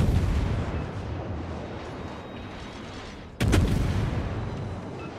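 Naval artillery from a Fletcher destroyer battle in World of Warships rumbles as a low, continuous roar of distant gunfire, then a sudden sharp, loud cannon blast cuts in near the end and rolls on.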